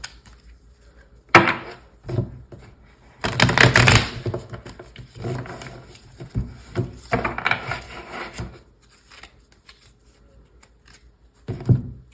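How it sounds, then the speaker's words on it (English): Cards being shuffled up close in several bursts of riffling and rustling, separated by quieter pauses and soft handling clicks. "I'm going to give these a quick shuffle"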